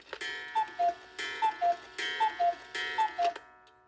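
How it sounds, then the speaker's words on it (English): Several mechanical clocks, including a handmade bird cuckoo-style clock, tick and chime together in a steady repeating pattern, with bursts of layered tocks and bell-like pings recurring about every second, close and fairly loud with no voices. "But they're all mechanical clocks, so it's hard, the springs, they wear down."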